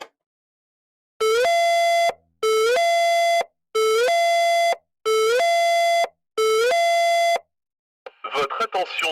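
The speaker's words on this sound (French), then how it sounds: "L'alarme va retentir." A Neutronic TT5-RF3 PPMS safety alarm sounds five evenly spaced, loud electronic tones, each with a short rising pitch step, separated by silent gaps, followed by a burst of a voice announcement.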